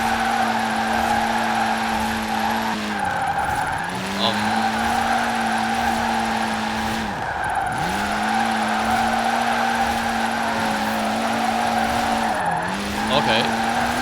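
A Citroen DS23 drifts in the Forza Horizon 4 racing game. Its tires squeal loudly and almost without a break over a steady engine drone, and the pitch dips sharply three times during the slides.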